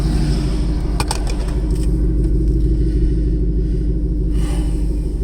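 A 2018 Ford Mustang GT with a free-flowing Borla S-Type exhaust idles with a deep, steady, loud rumble, a few faint clicks and rattles near the start and a light swell near the end.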